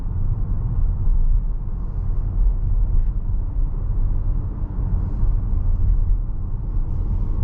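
2023 Tesla Model S driving smoothly, a steady low road rumble and muffled cabin hum with no engine note, constant and unbroken.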